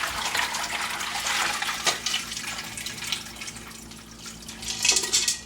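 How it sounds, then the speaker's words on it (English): Water pours and splashes as a pot of boiled eggs is drained, a steady hissing rush with a louder gush near the end, close and unaccompanied by talk. "So we're going to drain these off."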